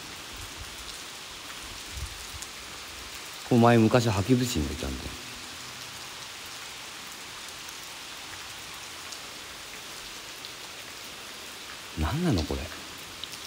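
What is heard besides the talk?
heavy rain falling at night near Tonoyama tunnel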